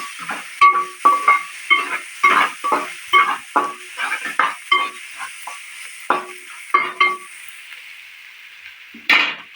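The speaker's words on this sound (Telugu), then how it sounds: "మూత తీసుకొని కలిపితే" Telangana-style dried fish curry being stirred in a pot, with repeated rhythmic scraping and clinking strokes of a spoon against metal over a faint sizzle, close and alone without speech.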